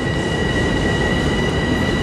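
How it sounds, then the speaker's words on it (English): A train pulling into a station on Long Island produces a loud, steady rumble with faint wheel squeal and tonal hum throughout, continuous and close, with no voices. "this train is going to park here and block our view to the north"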